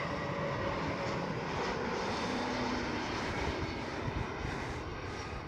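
A KLM Airbus A321neo airliner passes near Schiphol Amsterdam, its engines producing a steady, broad roar that holds at moderate loudness and fades slightly toward the end.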